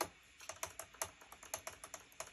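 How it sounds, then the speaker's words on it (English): A faulty crossfader on a Pioneer DDJ-REV7 DJ controller makes rapid, irregular plastic clicks, about a dozen sharp taps in quick succession, close and crisp against a quiet background. "You can kind of hear that clicking too."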